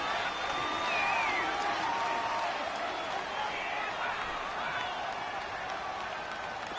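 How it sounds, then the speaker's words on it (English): A stadium crowd in the Madden 19 football game during a divisional playoff, with home-field noise against the visiting offensive line: a constant, dense roar of cheering with no breaks. "The crowd's not doing that O-line any favors."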